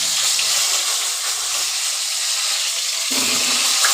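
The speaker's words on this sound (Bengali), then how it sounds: "এবার ফুলকপিগুলো আমি দিয়ে দিচ্ছি ভাজার জন্য" Continuous hissing sizzle of cauliflower frying in hot oil, with a soft low rumble swelling briefly near the end.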